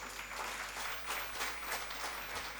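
A crowd at a retirement celebration in a hotel claps steadily and fairly loudly throughout, a dense, even wash of applause with no voices over it.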